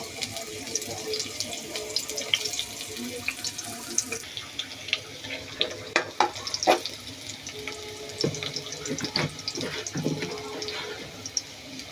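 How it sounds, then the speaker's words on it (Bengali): Fish sizzling in hot oil with onions in a home kitchen, a steady soft crackle with scattered clinks and stirring sounds, fairly quiet and without talk. "মাছ রান্না করতেছি, পরিমাণ মতো তেল দিচ্ছি।"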